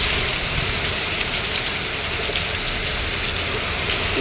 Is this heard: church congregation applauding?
no